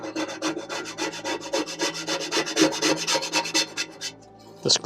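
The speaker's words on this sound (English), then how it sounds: "These scrapers are great because they're actually not damaging the coating." A scraper rasps baked-on grease off the coated tray of a Breville air fryer in quick, rhythmic strokes, close and dry, about twenty rough scrapes with no voices before a short pause and a final scrape.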